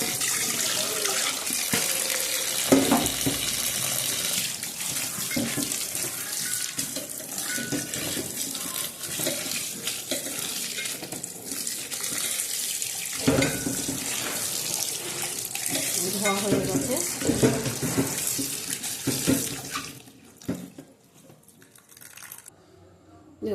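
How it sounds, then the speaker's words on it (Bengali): Tap water running and splashing through a colander while rinsing noodles, a continuous gushing rush with clatter, stopping abruptly near the end. "দেখো এর মধ্যে ঢেলে দেবো ঝুড়ির মধ্যে ভালো করে ধুয়ে নেবো"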